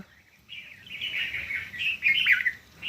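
A common myna's chattering calls ring out in bursts, fairly close, over a quiet outdoor background with no voices.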